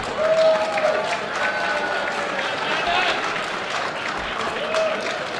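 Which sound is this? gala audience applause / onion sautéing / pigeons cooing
gala audience applause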